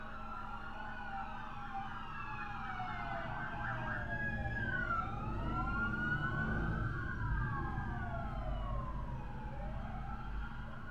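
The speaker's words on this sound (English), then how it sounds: "I don't know if y'all heard that, but that was a car chase." Police sirens wail outside during a car chase, several sirens overlapping and sweeping up and down continuously, heard at a moderate distance without any talk.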